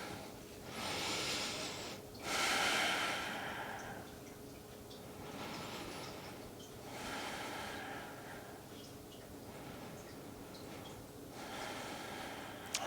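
Slow, deep breaths during a strap-assisted yoga stretch, each a soft airy inhale or exhale rising and fading roughly every two seconds, close and quiet, with no talking.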